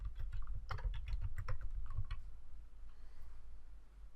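Rapid keystrokes on a computer keyboard in a quiet office setting, a quick irregular burst of close clicks that thins out and stops before the end.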